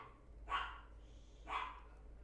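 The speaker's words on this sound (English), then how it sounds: "of course my dog wants to bark now" A dog barks twice at a moderate distance, two separate, evenly spaced barks about a second apart over a quiet indoor background, with no speech.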